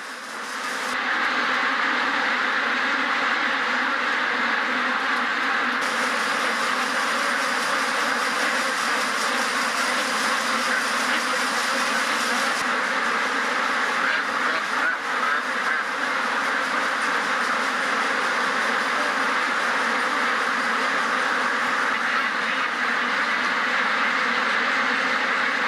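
A large crowd of ducks crammed into an intensive farm shed, quacking in a dense, steady, loud chorus that never lets up.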